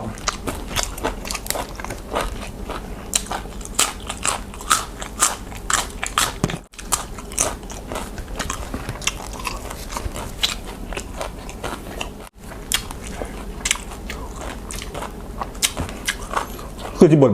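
Crispy crunchy pork is bitten and chewed up close, with repeated sharp crackling crunches in an irregular rhythm across the whole stretch, under intermittent talking.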